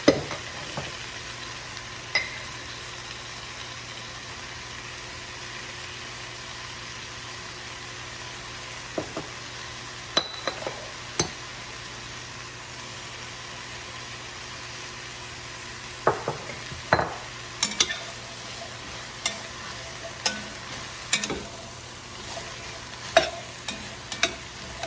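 Spices and emu meat frying in oil for a goulash, a low steady sizzle under a faint hum, broken by scattered sharp clicks and scrapes of stirring that cluster toward the end, close and without talk.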